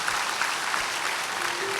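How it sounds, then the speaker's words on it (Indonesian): A church congregation gives a brief, steady round of applause during a worship service, dense clapping that fills the room for a couple of seconds. "Beri tepuk tangan yang meriah buat Tuhan."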